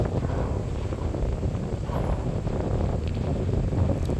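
Steady, rumbling wind buffeting the microphone, a continuous low roar with gusty fluctuations throughout and no voices.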